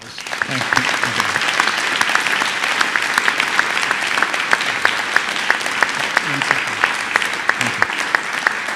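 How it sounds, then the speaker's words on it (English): Sustained audience applause fills a lecture hall after an evening talk on Christian-Muslim relations, steady dense clapping close by that runs throughout with a few louder individual claps standing out. "Let's give another round of applause"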